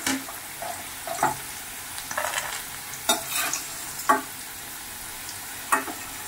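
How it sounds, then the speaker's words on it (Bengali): Black cumin seeds crackle and sizzle in hot oil for tempering, with a steady fry broken by several sharp stirring clatters of a utensil against the pan, near and without talk. "এবার দেখো ফোড়নে দিয়ে দিলাম কালো জিরে।"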